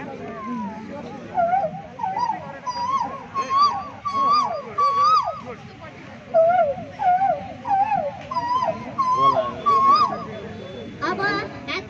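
A human voice imitating an Asian koel, giving a long run of rising, whistle-like calls repeated in quick phrases for about twelve seconds, close and fairly loud over a faint background.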